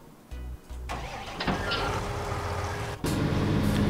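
An engine starts up in Farming Simulator 19: a couple of short low thumps, a cranking surge, then a steady, fairly loud engine drone that rises again near the end, with no talk over it.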